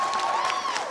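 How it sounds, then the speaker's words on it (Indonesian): Audience applause at a business pitching event, a brief dense burst of clapping with a faint tonal whistle or feedback ringing faintly behind it. "Tepuk tangan yang meriah buat Gemilang."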